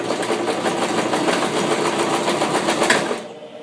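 A sewing machine tacks the elastic on an Applecheeks cloth diaper, running in a steady, loud, rapid mechanical whir of stitching back and forth before stopping abruptly near the end.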